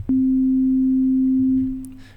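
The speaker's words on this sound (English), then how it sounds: "a sine wave, and a sine wave at around 200 hertz." A pure, steady sine test tone near 200 Hz plays alone for about two seconds, beginning with a click and then fading out.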